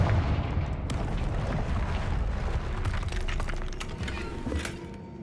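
Confringo explosive spell cast in the video game Hogwarts Legacy, a sustained rumbling blast with crackling bursts and debris sounding over several seconds, loud and close with no talking.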